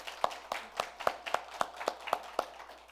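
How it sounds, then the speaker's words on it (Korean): Church congregation clapping at a Thanksgiving Sunday service: about nine evenly spaced, fairly faint claps in a steady rhythm, like a small group clapping in unison in a reverberant hall. "박수 한번 쳐드릴까요?"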